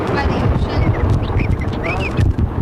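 Ducks quacking and other birds calling by the ocean, several short nasal calls scattered over rumbling wind buffeting the microphone, the birds somewhat distant and partly masked by the wind.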